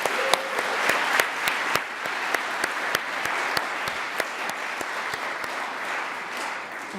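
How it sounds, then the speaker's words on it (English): Steady conference audience applause, many hands clapping together at a sustained level that tapers off slightly toward the end. "another round of applause for Marquette for Life"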